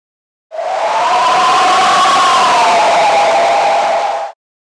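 Synthesized scream built in Pure Data or Max/MSP and pushed through heavy overdrive distortion, a single sustained harsh wail with a wavering pitch that holds loud for about four seconds before cutting off.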